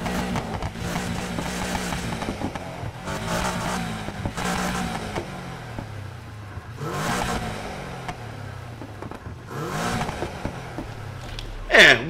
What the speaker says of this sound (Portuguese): som de escapamento.